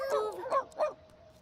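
Stray dogs in The Sims 2 game give three short yipping barks in quick succession, moderately loud and close, followed by a faint sustained tone.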